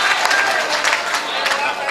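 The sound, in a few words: audience applause at a mushaira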